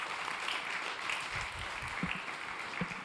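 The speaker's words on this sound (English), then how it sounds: "A round of applause." Audience applause at a startup founders pitch competition, a steady wash of clapping at moderate volume that holds evenly throughout, with a few low thumps underneath.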